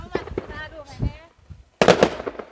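New Year fireworks are set off at home. After a stretch of people talking, one sharp, loud burst erupts near the end and then fades.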